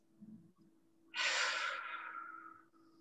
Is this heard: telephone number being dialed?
no